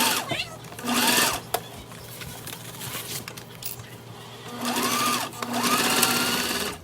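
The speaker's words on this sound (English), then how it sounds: "clip it and sew that down at 1/8 of an inch" A sewing machine stitching a wristlet seam 1/8 inch from the edge in two loud bursts of rapid, even stitching, with short pauses and a clack between them, close to the microphone.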